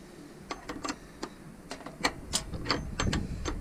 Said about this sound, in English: Now for tightening the last bolt, the last nut